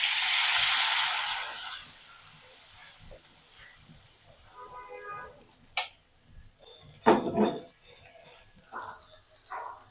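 Ginger frying in a pan gives a strong sizzle at first that quickly fades into quieter crackling, followed by a few soft clinks and stirring noises.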